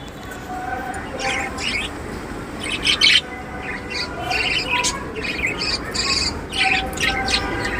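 Budgerigars chirp and twitter busily nearby, overlapping bursts of chatter and squawks over a steady background hum.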